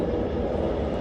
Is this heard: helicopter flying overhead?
yes